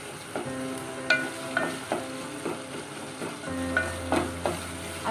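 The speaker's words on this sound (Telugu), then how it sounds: "టమాటాలు మగ్గాయో లేదో మళ్ళీ ఒకసారి కలబెట్టుకోండి." Tomatoes being stirred in a pan for a beans masala curry, with several distinct spoon scrapes at an irregular rhythm over a soft steady cooking hiss and a low hum joining near the end.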